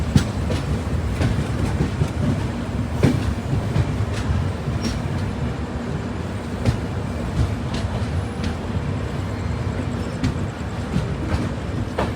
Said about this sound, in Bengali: আমরা এখন তিস্তা নদী ব্রিজটি অতিক্রম করছি